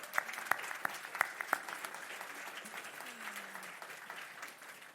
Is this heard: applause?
yes